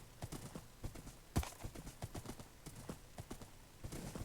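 Horse hooves clip-clop in a steady, fairly quick rhythm in a night-time video game scene, with one louder stomp partway through and no talk over them.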